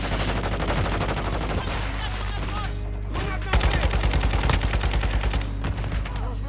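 Dense automatic gunfire and explosions fill a match of the video game Warzone, rapid bursts crackling nonstop and loud, with players talking in French beneath the shooting.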